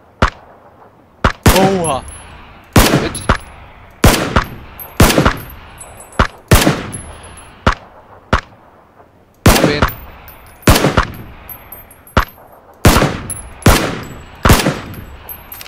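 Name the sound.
gunfire in the video game PUBG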